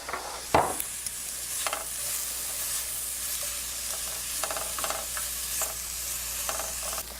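Sliced onion fries in a pan with a steady soft sizzle, broken by several stirring scrapes and one sharp louder stir near the start, heard alone at close range.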